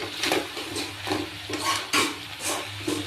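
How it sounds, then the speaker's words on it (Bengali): Bottle gourd leaves go into a pot of boiled greens, giving soft rustling and stirring scrapes that come in repeated bursts over a low steady hum, close and moderately loud, with no talking. "এখন আমি এখানে এই লাউ পাতাগুলো দিয়ে দেবো।"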